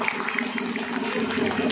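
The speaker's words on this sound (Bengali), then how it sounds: "জোরে একটা হাততালি" An audience applauds at a Durga Puja drama event, dense continuous clapping filling the space over a background hum, steady and fairly loud throughout.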